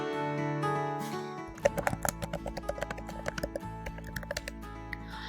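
Rapid keystrokes on a computer keyboard, a steady run of close, crisp clicks that begins after a quiet second and carries on alone over a faint musical hum.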